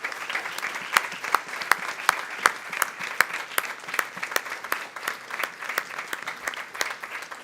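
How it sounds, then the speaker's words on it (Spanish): Audience applause at a poetry tribute held at the Universidad de Lima, steady clapping from a room of people with sharp individual claps standing out, moderately loud and continuous with no voices over it. "Aplauso para mis amigos de la mesa."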